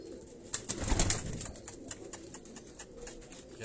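Rampuri and Teddy cross pigeons coo steadily nearby in soft repeated throaty calls, several birds overlapping in a loft.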